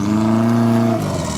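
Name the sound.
4x4 off-road vehicle engine climbing an obstacle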